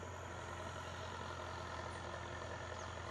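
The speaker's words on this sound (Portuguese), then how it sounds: "o tratorista tá passando o trator ali pra plantar o milho safrinha" Tractor engine running steadily at a low rumble on a farm as it heads out to plant second-crop safrinha corn, a continuous distant drone with no break.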